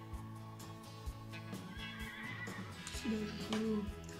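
A horse gives a loud, shaky whinny near the end, close by, over a steady background hum and a few soft knocks, with other sounds faintly mixed in earlier.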